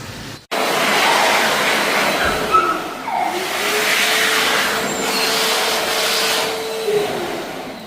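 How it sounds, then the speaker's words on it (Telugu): A hand dryer in a restaurant washroom starts abruptly and keeps blowing as a loud, steady rushing whoosh with slight wavering, running close by for about seven seconds with no voices. "hand dryer"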